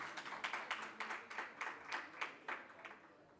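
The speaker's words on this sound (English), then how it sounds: "We can give her a round of applause as she comes up." Light applause from a conference audience at a research colloquium in a New Delhi hotel ballroom, rapid overlapping claps pulsing steadily for a few seconds, fairly faint and distant, fading out at the end.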